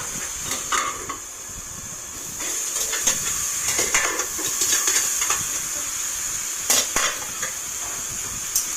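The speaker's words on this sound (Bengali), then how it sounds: "চিকেনটা কষতে অনেক টাইম লাগবে" Chicken being sautéed (kosha) in a pan, a continuous hiss and sizzle with intermittent scraping stir strokes and light pan knocks, close and moderately loud.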